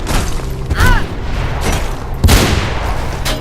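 Bursts of gunfire in the first-person action game Mirror's Edge, two loud broadband volleys about a second and a half apart over a steady rumbling background, with a fainter shot between them.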